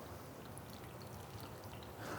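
Faint, steady stream of water pours into a roasting pan beneath pork belly, a soft continuous trickle lasting a couple of seconds with no talking.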